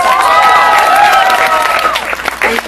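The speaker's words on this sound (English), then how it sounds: "Please give her a round of applause." An outdoor crowd at a UN Women march on International Women's Day breaks into loud, sustained clapping with cheering and whoops rising over it, then thins out toward the end.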